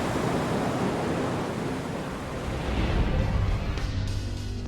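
Ocean waves break over the Great Barrier Reef in a loud, continuous wash of surf that swells and eases slightly, with no voices.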